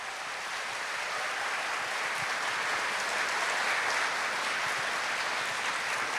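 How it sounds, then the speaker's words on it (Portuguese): A church congregation applauds, a continuous even wash of many hands clapping at moderate distance, sustained without pause for several seconds. "Vamos aplaudir nosso Deus?"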